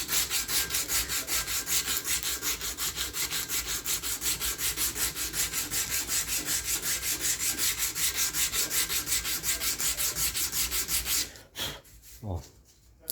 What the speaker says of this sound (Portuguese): Agora eu vou lixar o cabo, tá certo? Ó, peguei lixa de madeira, vou começar aqui com uma 80.